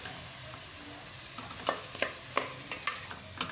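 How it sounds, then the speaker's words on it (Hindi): Chicken sautés in a pan for cheese-stuffed paratha filling, giving a soft, low sizzle. Scattered utensil scrapes and clinks grow more frequent toward the end, and nobody speaks. "चिकन भी हो गया है, अब ना इसे भूनते हैं थोड़ी देर।"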